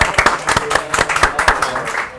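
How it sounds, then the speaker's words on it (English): A studio audience gives a round of applause for a guest named Connor at a hosted talk show, with dense, brisk clapping from many hands close by, steady for a couple of seconds. "A round of applause."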